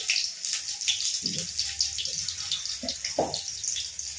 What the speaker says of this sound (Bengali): হাড়িটা মেজে রাখবো।